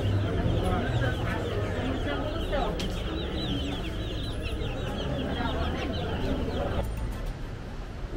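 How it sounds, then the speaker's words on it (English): Young chickens cluck and peep continuously in a pet and animal store in Jardin, Colombia, a busy layered chorus of small birds heard close, with a person speaking over it. "they got all these little chickens here."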